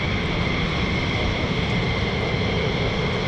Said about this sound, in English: More F-15E Strike Eagles